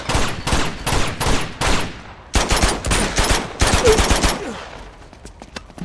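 Rapid bursts of automatic gunfire from a firefight in the video game Uncharted 2, loud and close, firing in repeated volleys with brief pauses, then thinning to scattered single shots.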